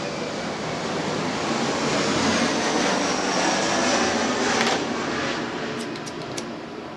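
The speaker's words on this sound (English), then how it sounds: "Airplane." An airplane passes overhead outdoors near a garage workshop, a broad, steady rushing roar that swells and slowly fades, with faint clicks near the end.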